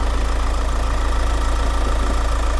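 A Ford Ranger Sport 4x4 off-road build with a 2.0 engine idles steadily nearby, a loud, even low rumble with a fast regular pulse and nothing else over it.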